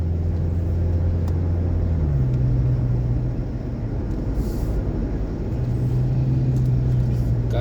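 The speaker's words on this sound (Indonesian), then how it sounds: "volume kendaraan makin bertambah." Road traffic on the route from Sigli toward Samalanga in Aceh gives a continuous low engine and tyre rumble that holds steady throughout, with no distinct individual passes standing out.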